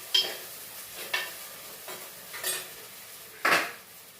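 Chopped onions sautéed in a hot pan, heard as five short scraping stirs at irregular intervals over a faint steady background, close and quiet with no talk.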